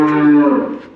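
A dairy cow at a cattle market gives one loud, close, drawn-out moo that fades toward the end.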